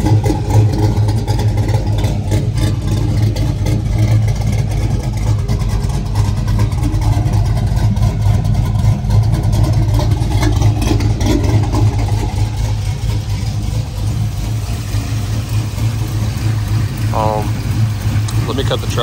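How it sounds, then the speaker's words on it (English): A truck engine idles with a steady, loud low drone and a faint rhythmic pulse that holds throughout, while someone talks over it. "I don't want to talk over the motor."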